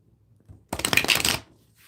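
Deck of tarot cards being shuffled, a single quick riffle of crisp papery flutters lasting under a second, close and fairly loud, with quiet handling before and after.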